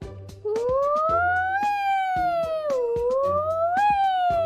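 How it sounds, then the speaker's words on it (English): A wailing siren rises and falls in long sweeping tones, loud and close, with rhythmic thumping beneath it, like a toy or cartoon fire engine. "turn on the siren and lights"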